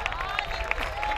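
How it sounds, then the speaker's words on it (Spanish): Applause and cheering from an audience at an evening gastronomy festival stage event, a steady crowd clapping texture with a few sharper claps and an announcer's voice over it. "¡Que se escuche más fuerte el aplauso!"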